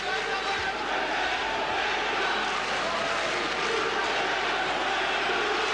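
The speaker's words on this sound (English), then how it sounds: "This crowd is deafening." A loud, dense crowd roar fills a kickboxing fight arena, sustained at a constant, deafening level from start to finish, with a commentator's voice faintly underneath.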